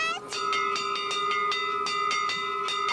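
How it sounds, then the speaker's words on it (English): A ship's bell clangs in a steady, rapid series of bright metallic strikes, about a dozen rings in under three seconds, loud and close, with no talking over it. "I hear a ship's bell!"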